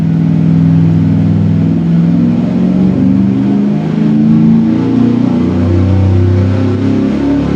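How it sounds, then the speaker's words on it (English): A carbureted versus fuel-injected V8 roars at full load through a dyno pull, a loud, sustained engine drone with slowly shifting harmonics and no break across the whole stretch. "And here's our 3rd pull."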